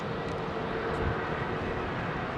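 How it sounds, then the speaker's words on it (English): Pratt & Whitney jet engines of a Cathay Cargo Boeing 747-8 freighter idling nearby at London Heathrow, a steady, dense low roar that holds level throughout. "Love the sound of these engines, man. Pratt & Whitney's at idle."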